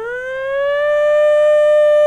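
A loud warning siren sounds during city flooding, a single sustained wailing tone that rises slightly in pitch and holds steady for about two seconds. It is close, heard alone, with no voices.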